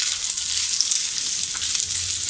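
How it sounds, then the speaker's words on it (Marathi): Chopped onion fries in hot oil until golden brown, a dense, even hiss of sizzling close up with no pauses, a few soft stirring touches underneath. "हा कांदा सुद्धा आपल्याला छान असा गोल्डन ब्राऊन रंग येईपर्यंत आपल्याला परतून घ्यायचा आहे"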